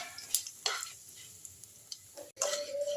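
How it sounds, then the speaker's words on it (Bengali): Whole spices, cinnamon, cloves and cumin seeds, frying in hot oil for a Bengali curry, with soft sizzling, a few scattered clinks and stirring scrapes, quiet and close. "একটু দারচিনি, একটু লবঙ্গ আর একটু গোটা জিরে। ফোড়নটা আমি ভেজে নিচ্ছি।"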